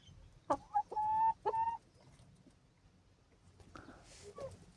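Korean broiler Todjon chickens give two loud, drawn-out squawking calls up close, followed by quieter scattered clucks and faint background rustling.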